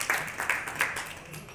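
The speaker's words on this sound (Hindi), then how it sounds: "इसके लिए हम सब एक बार जोरदार तालियां मेजर जी के लिए" A poetry gathering audience claps briefly for a reciting poet, a few scattered, fairly soft claps at a book launch event that quickly trail off.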